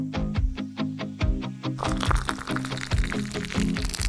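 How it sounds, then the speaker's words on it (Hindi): Water poured onto a plant, with a run of quick, evenly spaced splashy taps giving way to a denser, continuous pouring burble; close and fairly loud, with no voices. "ठीक है, चलो इसको पानी देते हैं।"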